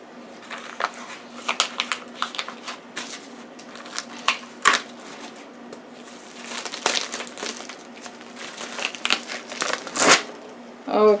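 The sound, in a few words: removing plastic wrapping from a butternut squash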